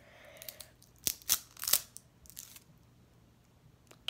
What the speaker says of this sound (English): let's try to break them by pulling on them